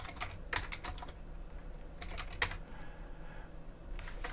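A command is typed on a computer keyboard in quick bursts of close key clicks, with short pauses between the groups of keystrokes. The room is otherwise quiet.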